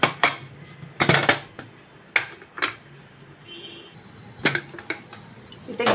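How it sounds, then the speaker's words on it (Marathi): A pressure cooker of black chickpeas set on a gas stove, heard as repeated metallic clanks and knocks of metal pot against the burner grate, several sharp bursts spaced irregularly over a quiet kitchen background, close and fairly loud. "इथे गॅसवर कुकर ठेवायचा आहे"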